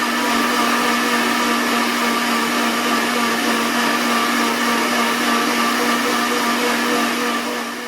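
A mixer grinder runs continuously and loud, grinding a batch to a smooth, butter-like paste, a steady high whirring drone with no pauses or talk.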